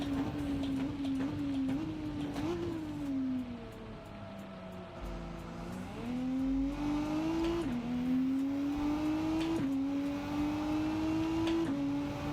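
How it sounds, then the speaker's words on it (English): A race car engine at Red Bull Ring revs up and down through rapid successive gear changes, pitch climbing and dropping repeatedly as heard from inside the car, steady and prominent with no talking. "You ever heard so many fucking gear changes?"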